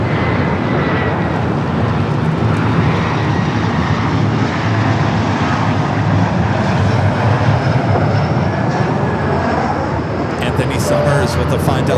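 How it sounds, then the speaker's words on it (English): A Delta Airbus A350 arriving at Los Angeles LAX as Flight 8 from Tokyo Haneda gives off a sustained, fairly loud jet roar, with a voice talking over it. "That Delta A350 that came in from Tokyo Haneda Flight 8."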